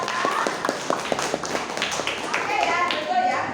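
Children in a classroom clap in a quick rhythmic pattern of sharp beats that fades into mixed chatter and voices, with a teacher talking over it.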